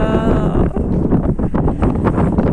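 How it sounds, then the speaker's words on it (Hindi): Steady wind roars across the microphone in a dense, continuous rush, with faint sounds mixed beneath the blowing. "हवा की आवाज आ रही है आपको, इतनी अच्छी हवा चल रही है।"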